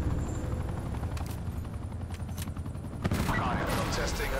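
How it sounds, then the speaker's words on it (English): Heavy, continuous gunfire rattles through a first-person shooter match in Hardpoint mode, with dense bursts and booms layered loudly over one another, a sharper crack near the end. "Taking heavy fire."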